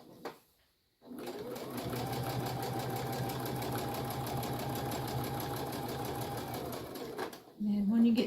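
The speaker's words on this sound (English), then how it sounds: "So now we're just going to sew down this end." A home sewing machine runs steadily for about six seconds, stitching down the end of a fabric face mask with a fast, even mechanical whir, then stops as a voice begins.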